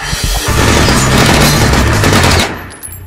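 A Deadpool parody scene has a loud, dense stretch of rapid gunfire with heavy booms that lasts over two seconds and then stops abruptly.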